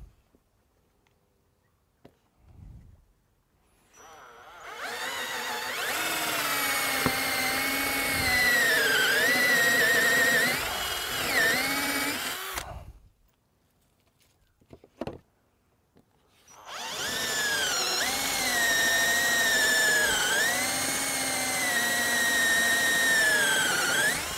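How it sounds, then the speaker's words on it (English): A power drill fitted with a 20mm Forstner bit bores holes into the wooden side pieces of a wine caddy, two loud sustained whirring bursts of about eight seconds each, separated by a brief pause. "we're going to drill a neat hole in the top of our sides"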